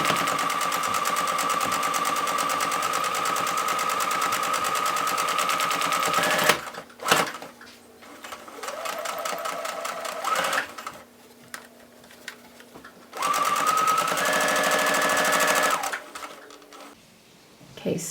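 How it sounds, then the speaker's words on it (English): Sewing machine top stitching along the edge of a fabric face mask: long steady runs of fast, even needle chatter broken by short pauses and softer handling sounds, close and loud, with no talk. "I'm just going to do a top stitch along the top again and on the bottom"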